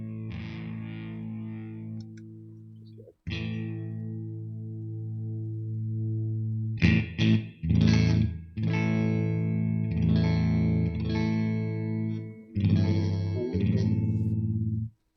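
Electric guitar through an MXR Classic 108 Fuzz pedal into a clean amp channel, heavy saturated chords ringing out in long sustained blocks with choppy stabs between, loud and close with no voices.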